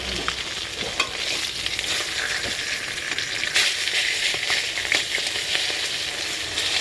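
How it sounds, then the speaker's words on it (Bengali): Fish fries in a pan in a home kitchen, giving a steady bright sizzle with occasional stirring scrapes and clinks, close and continuous without talk. "এদিকে দেখো মাছও আমার শাশুড়ি মা অর্ধেক ভাজতে ভাজতে"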